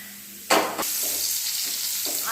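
Potatoes sizzling and frying in a pan, with a loud burst of stirring or hissing near the start, then a steady crackling sizzle close by.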